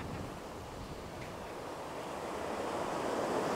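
Off-season ocean surf in autumn or winter, a steady broadband wash of waves rising slightly in loudness toward the end, with some wind and no voices.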